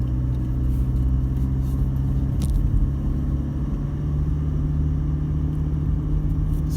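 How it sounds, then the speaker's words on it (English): A vehicle cruises slowly along a beach, giving a steady low engine rumble with road-like drive noise that stays constant and close throughout, with no talk. "We're just cruising along the beach, heading back slowly from number 2 rocks."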